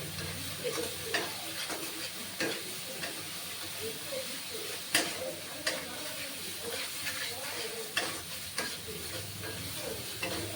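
Turmeric, chili and cumin powders fry and get stirred in a pan at home, a steady close sizzle broken by scraping spatula strokes and a few sharp clacks against the pan, with no talking.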